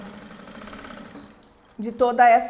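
A sewing machine stitches fabric for a trapezoid box cosmetic bag, a faint rhythmic whir under a voice, then louder bursts of rapid mechanical stitching near the end.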